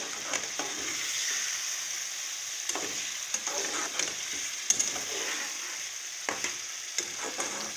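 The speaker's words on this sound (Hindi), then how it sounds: "मसाला सॉफ्ट हो चुका है। अब मैंने इसमें ये आलू डाल दिए।" Diced potatoes fry in softened masala for a tinda and potato curry, giving a steady close sizzle with occasional stirring scrapes and clinks throughout.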